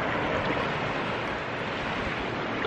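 Waves washing onto a beach in the Bahamas, a steady loud broadband rush of surf with wind noise and no distinct breaks.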